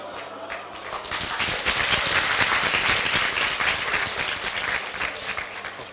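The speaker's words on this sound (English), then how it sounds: "That's the first clap of my talk." An audience at a talk about startups breaks into applause, a dense burst of many hands clapping that swells and holds for several seconds before tapering off.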